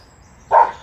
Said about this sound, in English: The next door neighbour dog again.